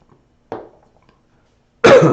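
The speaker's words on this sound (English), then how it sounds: "it peaked out when I coughed" Two coughs come from someone close to the microphone in a quiet room. The first is short and light, and the second is sharper and louder and follows after a pause.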